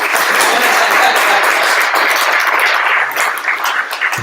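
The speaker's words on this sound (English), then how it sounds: "go ahead, clap" A live stream meetup crowd claps in a dense, steady wash of applause that fills the room for several seconds, thinning slightly toward the end.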